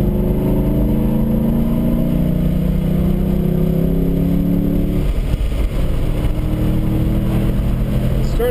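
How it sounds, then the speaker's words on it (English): Race car on the Harris Hill road course accelerating hard, its engine roaring loud and close from onboard with rising harmonic sweeps that break around the midpoint into a rougher, steady drone, while an instructor's voice may sit under the noise. "Now give it gas."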